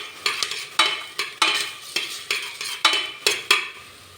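Ginger garlic paste sautés in a pan while a utensil scrapes and taps the metal about a dozen times in an irregular rhythm, close and clear over a soft sizzle.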